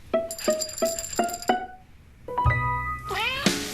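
A rhythmic series of short meows, five in a row, followed by a longer rising meow and a final one, close and clear.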